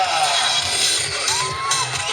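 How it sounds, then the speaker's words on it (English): Crowd of volunteer pig rooters yelling and screaming at a pig race at the Florida State Fair, a dense, steady wash of loud shouting voices lasting the whole moment. "I need loud screaming pig rooters."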